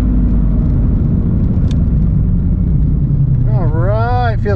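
A twin-turbo Ford Mustang launches off the foot brake, its engine a loud, steady low rumble throughout, with a voice shouting over it near the end.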